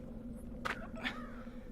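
A crow caws twice in Dreamfall: The Longest Journey, two short, fairly distinct calls about half a second apart over a steady low background hum.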